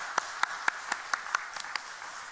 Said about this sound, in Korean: 우리 한 번 더 박수로 격려하겠습니다